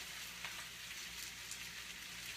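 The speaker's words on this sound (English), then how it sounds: "Listen for the sizzle." Garlic parmesan chicken sizzles in a frying pan, a soft, steady hiss of frying with faint crackles, fairly quiet and unbroken, with no talking.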